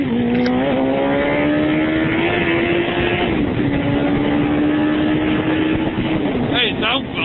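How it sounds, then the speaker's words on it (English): A KTM Super Adventure motorcycle fitted with a GR Motor exhaust drones loudly and steadily close by, its pitch holding level then dipping and rising as the throttle shifts; a voice briefly cuts in near the end. "So I said to him, with that exhaust, that GR motor exhaust, it sounds right good."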